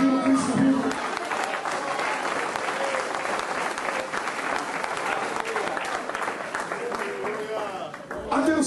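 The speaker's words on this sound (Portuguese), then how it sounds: "Você pode aplaudir o Cristo vivo" A church congregation applauds after a sermon about the risen Christ, with dense clapping and some cheering voices blended in, steady and moderately loud for the whole stretch.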